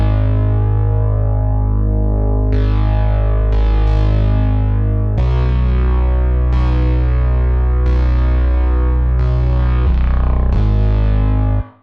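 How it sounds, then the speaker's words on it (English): A loud, thick bass synth plays a slow sequence of sustained notes, washed in shimmering chorus and a long reverb tail, with no voices. "Reverb and chorus on bass"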